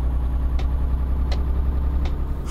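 A truck engine braking in Euro Truck Simulator 2 makes a steady low, rumbling drone, with three faint ticks spaced evenly over the top and no voices.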